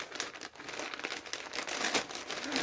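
A bubble-lined envelope crinkles and rustles continuously up close as it is handled and pulled at, a dense papery crackle with no talking.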